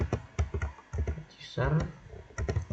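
Someone types commands on a computer keyboard while administering a server from the command line: uneven clusters of quick, close key clicks with brief pauses and a short stretch of speech in between.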